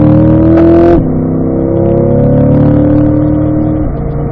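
Car accelerating hard on a racetrack, engine note rising steadily through fourth gear, a quick shift, then climbing again in fifth, loud and close from onboard with no talk.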